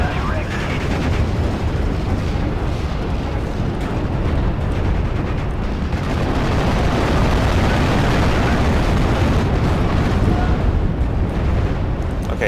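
Artillery barrage in the WWII strategy game Steel Division: Normandy 44, a dense, continuous rumble of heavy explosions and booming impacts that stays loud throughout, with a voice talking faintly underneath.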